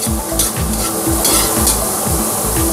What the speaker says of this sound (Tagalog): Itunaw lang natin ang butter.